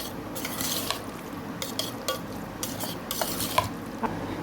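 Curd rice gently stirred with black grapes in a bowl makes soft, wet squelching and light spoon scrapes, quiet and close, with a few sharper clicks of utensil against the dish.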